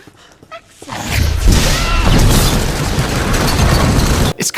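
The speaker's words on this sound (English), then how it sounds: "a powerful spell that can create large explosions, used to demolish walls or break through other things" A Bombarda Maxima spell from a Harry Potter film, a loud sustained explosive boom that erupts after a second of quiet and rumbles on for several seconds before cutting off.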